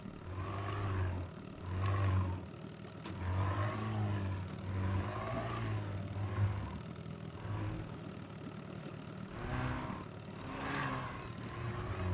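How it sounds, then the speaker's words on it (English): Fast boat in the game Teardown, a roaring engine that surges and revs in repeated rising waves, loud and close throughout. "You'll notice this is a very fast boat. Be careful when you drive it, don't destroy it."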